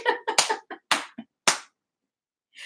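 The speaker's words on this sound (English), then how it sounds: "when a Black man start clapping like this, you better step back" Hand clapping: a quick run of sharp, close claps in an uneven rhythm, a pause, a few more single claps, then a long gap before one last soft slap.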